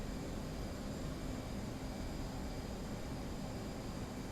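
An F/A-18C jet in flight in DCS World, giving a steady, even engine roar that holds unchanged throughout with no voices.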